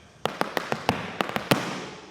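Irish dance treble and bang footwork from hard shoes, about ten sharp close taps in a quick uneven rhythm, ending on a louder final stamp.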